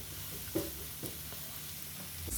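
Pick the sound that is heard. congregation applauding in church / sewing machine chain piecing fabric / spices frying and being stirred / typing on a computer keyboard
spices frying and being stirred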